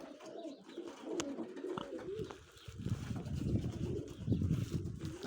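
Racing pigeons coo softly in a loft after returning through snow, low repeated murmuring calls that rise and fall, faint and fairly close, with no talk.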